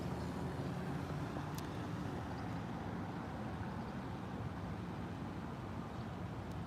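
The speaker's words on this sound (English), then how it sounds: "There's a car going over the train tracks right now" A car passes over train tracks amid steady road traffic, making a continuous, moderately distant rumble of tyres and engine with no clear separate bumps and no voices.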